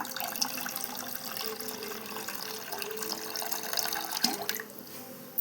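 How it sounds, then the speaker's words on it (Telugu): Water pours off soaked rice as it is drained in a home kitchen, a continuous close splashing trickle with a brief clink near the end. "బియ్యం అయితే వడగొట్టుకుంటున్నాము."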